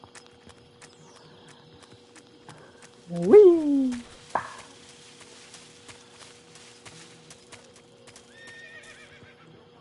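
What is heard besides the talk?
horse neighing and hooves in the video game Metal Gear Solid 3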